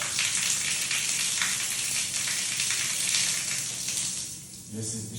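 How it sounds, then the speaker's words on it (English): Water pours steadily from the waterfall spout of a ROVATE retrofit rainfall shower tower panel, a loud, continuous rushing close by that dips briefly near the end. "This is the waterfall."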